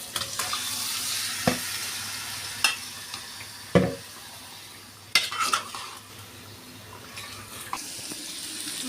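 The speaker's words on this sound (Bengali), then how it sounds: "মাংস দিয়ে দিচ্ছি।" Beef goes into a pan of spiced, thickened gravy with cardamom and bay leaf, frying with a steady sizzle while a utensil stirs and clinks against the pan in several sharp scrapes.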